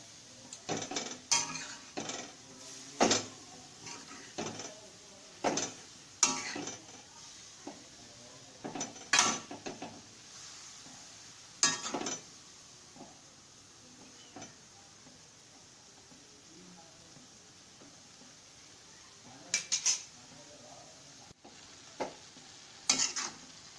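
A spoon stirs grated carrot halwa with milk in a pan on the stove, giving close, intermittent scraping and clinking strokes over a soft, steady sizzle.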